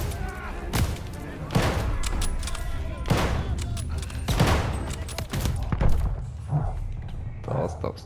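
Gunfire in the World War II shooter Call of Duty: Vanguard, with several loud broadband shot bursts and thuds spread across the stretch amid continuous game noise and someone talking.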